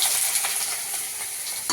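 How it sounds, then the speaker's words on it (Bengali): Squeezed, soaked soybean chunks land in a hot wok and set off a sharp, close sizzle with light stirring, brief and continuous, with a fresh burst of hissing near the end. "এখন সয়াবিনটা আগে দিয়ে দেবো কড়াইতে"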